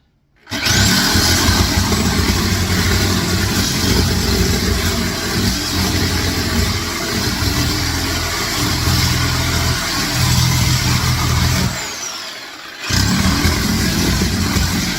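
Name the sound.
Sawzall reciprocating saw with new blade removing floor tile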